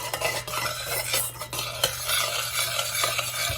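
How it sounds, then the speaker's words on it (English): A spoon stirs a warm brownie chocolate mixture in a pot off the burner, giving continuous close scraping and sloshing with small metallic taps against the pot and a low steady hum underneath. "I'm going to stir for just a minute while it's off here."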